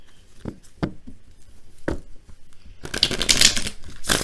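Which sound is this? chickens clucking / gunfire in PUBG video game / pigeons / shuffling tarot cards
shuffling tarot cards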